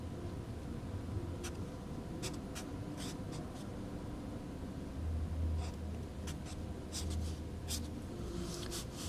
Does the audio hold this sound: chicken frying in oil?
no